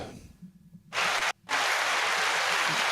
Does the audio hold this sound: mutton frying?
no